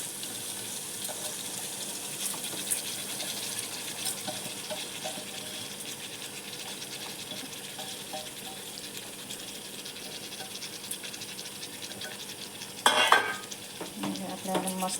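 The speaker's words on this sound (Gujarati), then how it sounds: "આપણે મસ્ત મિક્સ કરી દઈશું." Rice and toor dal stirred in a pan, a steady soft scraping and rattling with a light sizzle throughout, brief louder clatter near the end; no talking.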